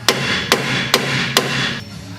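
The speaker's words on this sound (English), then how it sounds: "so you're going to have to use a hammer to get them out" A hammer strikes four times at a steady pace, knocking out rear strut mount bolts with knurled shanks on a 2001 Oldsmobile Intrigue; each metallic blow is loud and close, with a brief ring after it.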